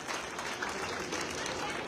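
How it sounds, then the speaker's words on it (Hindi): Audience applause at a political gathering welcoming a speaker onto the stage, a dense steady wash of clapping from a crowd over the full stretch, loud and continuous. "जोरदार तालियों के साथ में भाई साहब का स्वागत और सम्मान करना चाहिए"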